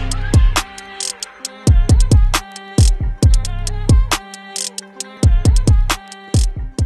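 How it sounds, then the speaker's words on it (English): Plucky synthesized tones and deep bass hits generated by a PlantWave device turning plant signals into music form a repeating beat-like pattern, loud and clear with no voices. "So we're going to use this plant wave device, get the signals from there, and see what comes out and make a beat out of it."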